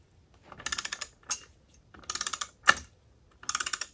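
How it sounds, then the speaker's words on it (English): A torque wrench tightens the propeller nut on a Mercruiser Alpha outdrive lower unit to 55 pounds. Several close bursts of rapid ratcheting clicks are split by one sharp single click, with no talk. "once it gets to 55 pounds, the torque wrench itself will make a clicking sound"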